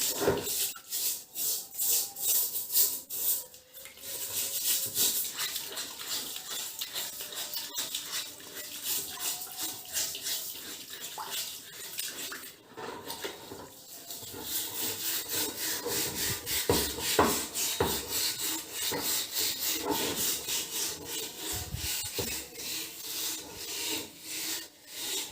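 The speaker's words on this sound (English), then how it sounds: "Use this scrubber to remove it. Do very hardly" Steady abrasive scrubbing of a rusty metal rod with a hand scrubber, a dense rasping rub that continues with only brief pauses, close and fairly loud throughout, no talking.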